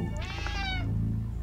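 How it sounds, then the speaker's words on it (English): A scared cat meowing in the Slayaway Camp video game, one drawn-out, wavering meow up close followed by a low lingering tone. "Oh no, don't scare the kitty."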